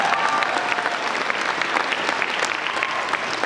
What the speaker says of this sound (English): Yeah, you can clap for that, that's good.